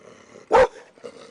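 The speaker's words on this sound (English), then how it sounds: "Sorry to get your dog all worked up." A dog barks once, loud and close, in a short sharp burst at a visitor at a house in Portland, with quieter growling around it.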